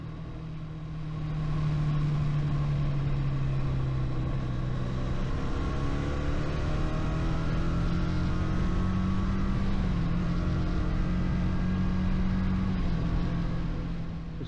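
A motorcycle cruising in sixth gear with its stock exhaust, a steady engine drone holding a fairly even pitch with only slight rises and falls, continuous and close throughout with no talking.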